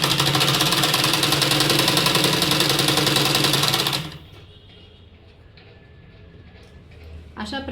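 A sewing machine stitches a salwar, its fast, even running rattle loud and steady for about four seconds before it stops, leaving a quieter room with faint movement and a small burst of handling noise at the end.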